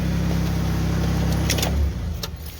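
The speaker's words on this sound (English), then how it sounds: "I'm gonna go ahead and turn off the car so I don't die of fumes" A car engine idles steadily up close, then shuts off abruptly near the end, leaving a few faint clicks and quiet.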